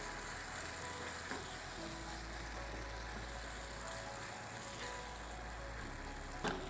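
A sauce with a tablespoon of oyster sauce and a little ginger and garlic is folded together in a pan. It gives off a faint, even sizzle under a steady low hum, with a single clack near the end.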